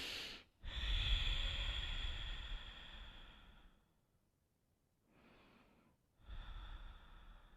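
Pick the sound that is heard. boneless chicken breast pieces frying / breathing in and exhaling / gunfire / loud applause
breathing in and exhaling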